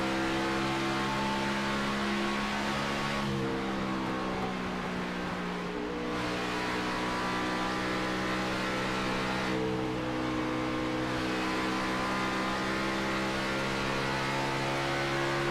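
Race cars run laps at Darlington Raceway during a Checkered Flag Auto Supply Scrambler Series event, a steady engine drone with two passes swelling and fading, distant and continuous.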